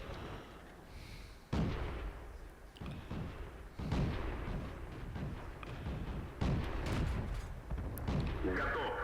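Heavy tank gun blasts and shell impacts from World of Tanks gameplay, featuring the SU-76i, boom out in a few loud bursts over a rumbling battlefield background.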